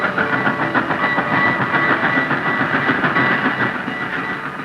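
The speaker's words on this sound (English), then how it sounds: "An old-time railroad train puffing along between the old-time frontier towns of Silverton and Durango." An old-time narrow-gauge railroad train running between the frontier towns of Silverton and Durango rumbles and clatters steadily, with a continuous loud rolling noise and faint tonal hiss throughout.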